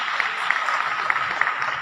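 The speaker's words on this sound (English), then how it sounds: "A big clap for her was really deserving." Faint, brief applause from a conference audience honoring the organizer at an international university conference, a soft patter of scattered claps heard at a distance.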